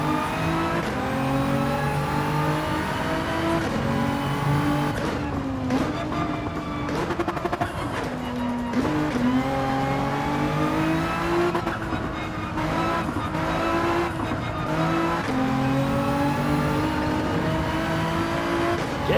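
Nissan GT-R engine in Gran Turismo 7 racing, revving steadily with shifting pitch through corners and brief tire squeal, loud and continuous throughout.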